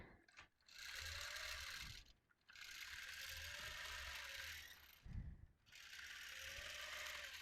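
A sewing machine bastes a quilt with a torn fabric edge, whirring in three long, even runs broken by brief mechanical clunks and pauses, fairly quiet and without speech.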